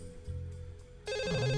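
A telephone rings in a point-and-click adventure game: a steady electronic ring tone cuts in sharply partway through, loud and alone over low background game music.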